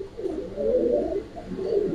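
Large Rajbari Rajgolla pigeons, a male and female pair, coo in low rolling phrases, with two swelling bursts of cooing close by and no talk.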